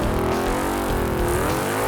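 Drag race car roaring hard off the line down the strip, a loud, close engine blast with rising revving harmonics, no voices.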